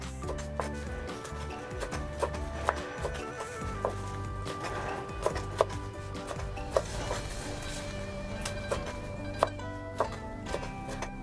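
Knife chopping vegetables for a chicken and potato dish, a series of irregular, fairly crisp taps against a board over a steady low background hum.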